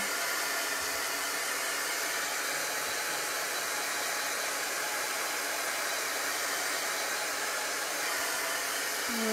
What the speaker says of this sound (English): I'm going to hit this one with the heat tool.